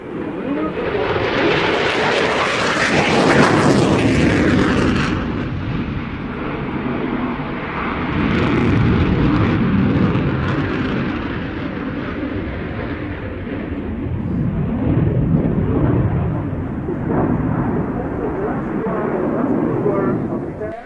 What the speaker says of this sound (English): Touchdown in this moment from the Eurofighter Typhoon of the Italian Air Force Flight Center